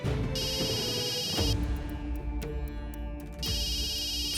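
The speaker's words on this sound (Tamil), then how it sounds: "சிஸ்டர், உங்கள் ஃபோன் அடிக்குது பாருங்க." A mobile phone ringtone rings inside a lift where people are stuck, sounding as two clear bursts of a bright electronic tone, one at the start and one near the end, with a quieter gap between.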